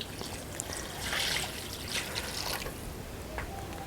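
Water poured from a glass into a pot of dal keema on a dhaba-style stove, a soft steady trickle and splash running close by with no talk.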